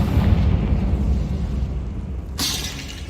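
Confringo fire-blast spell going off in Hogwarts Legacy, a heavy rumbling boom that swells at the start and trails off, followed by a sharp bright crack near the end.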